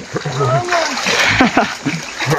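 Splashing and sloshing water as people bathe and swim outdoors, irregular bursts of splatter close by, mixed with shouting and chatter from several voices throughout.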